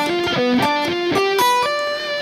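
Distorted electric guitar runs a sweep-picked arpeggio through a G dominant shape, fast clean-edged note sequences stepping up and down in quick rhythmic groups, loud and alone with no talking.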